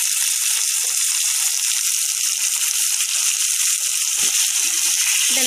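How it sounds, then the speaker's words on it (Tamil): Onions sautéing in a pan for a bitter gourd curry give a steady, even sizzle that runs unbroken throughout, close and moderately loud, with a few faint clatters near the end. "நல்லா கிண்டி விட்டுடலாம் இதுவும் கொஞ்ச நேரம் நல்லா வதங்கட்டும்"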